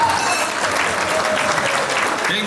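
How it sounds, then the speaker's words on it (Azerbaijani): Sustained audience applause at an Azerbaijani Novruz holiday celebration, a dense steady patter of many hands clapping at even loudness throughout, with faint voices mixed underneath. "Alqışlar."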